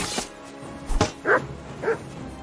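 Dog barking in Kingdom Come: Deliverance II, a couple of short yips and barks close by amid game sounds, with no talk over them.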